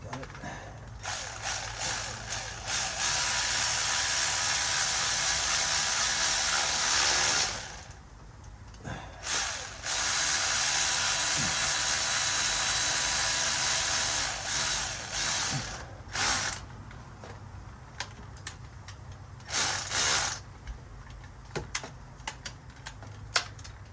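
A ratchet snugs up bolts on a 2017 Ford Focus in repeated bursts of quick clicking, with pauses and scattered clicks between them and a little talk in the background.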